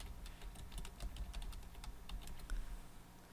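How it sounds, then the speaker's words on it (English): Keys clatter on a computer keyboard as a search is typed, a quick run of faint, close clicks over quiet room hiss. "And I'll type in Mickey Halloween."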